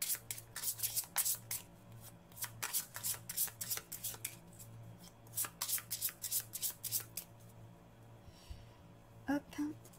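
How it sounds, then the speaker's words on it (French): Yes/no oracle cards being shuffled by hand: a rapid run of crisp riffling and flicking bursts, close and fairly quiet, pausing briefly before a few last flicks, over a low steady hum. "je vais les mélanger aux cartes oui et non"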